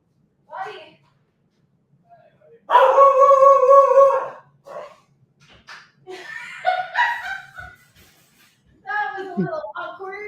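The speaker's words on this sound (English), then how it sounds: "there goes my dog" A dog barks and howls in short bursts, one long drawn-out howl followed by several yips and barks close by, with people talking around it.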